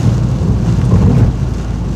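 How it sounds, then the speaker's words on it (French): Heavy rain pours steadily, loud and close, with a deep low rumble throughout and no talking. "il pleut"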